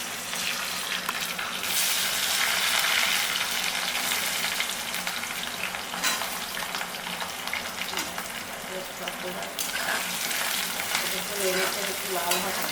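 Potato pieces frying in hot oil with cinnamon and cardamom for Dhakai muri ghonto, a steady dense sizzle with stirring scrapes running throughout at close range, no talk over it.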